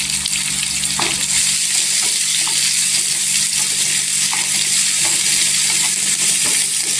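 Two to three onions sizzle steadily in a pan while being cooked soft for a dried bombil (Bombay duck) chutney, with a loud continuous frying hiss and occasional stirring clinks close by.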